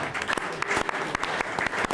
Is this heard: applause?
yes